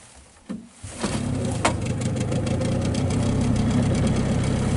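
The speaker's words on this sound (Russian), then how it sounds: "Двигатель работает" Outboard boat engine just back from repair catches and settles into a steady, close idle with a slightly rough, knocking mid-low drone, running alone without talk.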